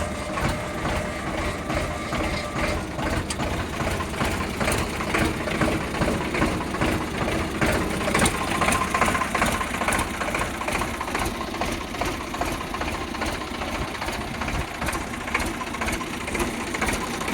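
A Sonalika 745 tractor engine idles steadily, a continuous rhythmic diesel chugging with a slight knocking beat that holds an even level throughout.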